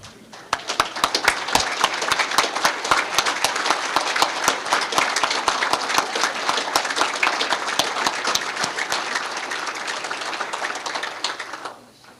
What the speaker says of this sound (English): I think we need to stand up and give these folks a round of applause.